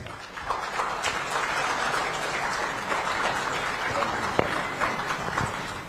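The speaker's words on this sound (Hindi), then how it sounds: "warm round of applause" Seminar audience applause fills the room as a dense, continuous wash of clapping held at an even level for several seconds, with the odd louder clap poking through.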